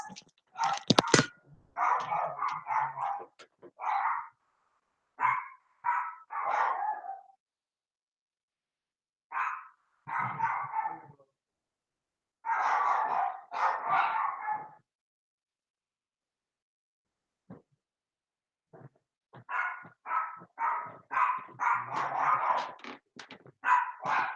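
Several dogs barking in repeated bursts, close and loud, with pauses of silence between volleys and a final stretch of rapid, overlapping barks.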